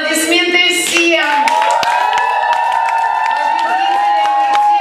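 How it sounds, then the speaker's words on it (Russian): A summer camp audience at an awards ceremony claps steadily throughout, the applause mixed under loud, sustained tonal music. "Аплодисменты всем!"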